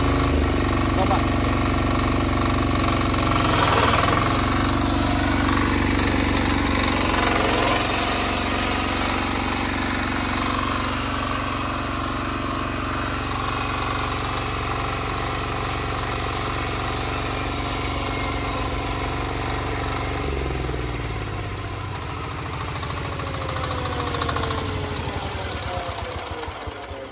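A tractor engine runs steadily up close with a mechanical drone and clatter from a PTO-driven mower, while a voice talks over it at times.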